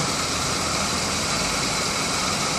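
A car engine idling during an engine-cleaning service, a steady, even, continuous drone that holds unchanged throughout, with no talk.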